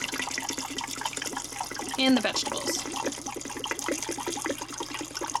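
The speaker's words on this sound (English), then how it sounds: "You want to top off with water so it goes right over the chicken" Water pours steadily over chicken into an Instant Pot pressure cooker, a continuous splashing rush while a person talks over it.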